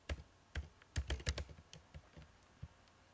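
Close, quiet clicking of keys as text is typed on a computer keyboard, a quick irregular burst of taps with short gaps and no talk.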